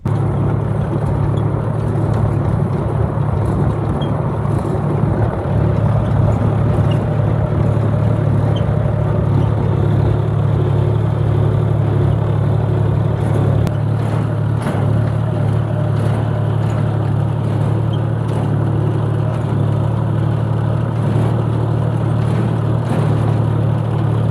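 A heavy tractor engine drones steadily and loudly throughout during soybean sowing in a field, a constant low rumble with rattling and vibration, no voices.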